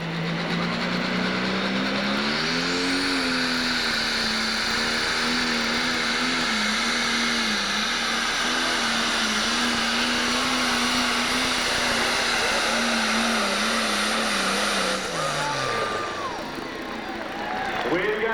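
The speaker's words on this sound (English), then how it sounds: "Bringing the RPMs up." An International 1066 pulling tractor at a 12,000 lb Pro tractor pull revs its engine up, a loud sustained roar that climbs in pitch and holds steady before dropping away near the end.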